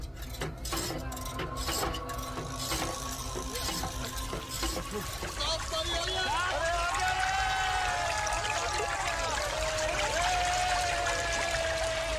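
Water gushes and trickles from a pump or tap, a steady pouring stream with clinks and splashes, while a voice speaks briefly near the start.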